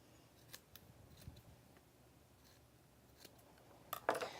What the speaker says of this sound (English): then you're going to snip off the extra